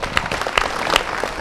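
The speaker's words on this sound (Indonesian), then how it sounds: "Kita beri tepuk tangan dulu." Dense applause from an audience at a community empowerment forum, a steady wash of many hands clapping close and loud, briefly filling the space with no clear voices.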